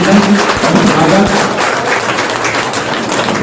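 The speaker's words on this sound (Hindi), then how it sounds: "आइए जोरदार तालियों से इनका अभिनंदन और स्वागत" Steady, dense applause from a crowd welcoming a legislator, an MLC, on stage at a teachers' association gathering, sustained loud clapping throughout with faint voices beneath.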